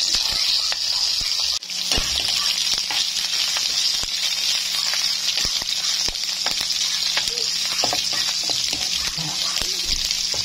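Chopped onions sizzle steadily in a frying pan with garlic already browned, a loud, continuous hiss of hot oil with scattered crackles and occasional stirring scrapes, close up.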